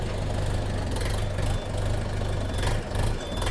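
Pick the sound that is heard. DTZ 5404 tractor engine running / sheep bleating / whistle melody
DTZ 5404 tractor engine running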